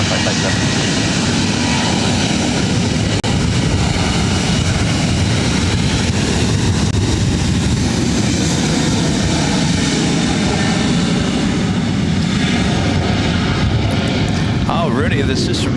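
A jet airliner takes off at LAX airport with a loud, continuous engine roar that fills the whole span, while a radio voice or speech runs under the engine noise.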